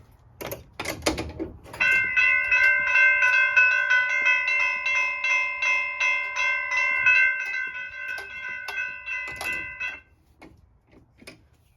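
A railroad crossing bell rings steadily and loudly for about eight seconds in a rapid, even clang, with a few mechanical clicks before it starts and after it stops.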